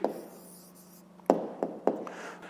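Pen strokes of handwriting on paper, a soft scratchy rub followed by three short distinct taps or strokes, close and quiet with no voices.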